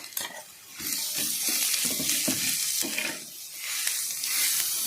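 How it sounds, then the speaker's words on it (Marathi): Peanut chutney with onions being stirred and fried in a pan, a steady close sizzle under repeated scraping strokes of a spoon, with no talking. "चटणी आता घालून देऊया याच्यात चटणी चांगली परतून घ्यायची आहे"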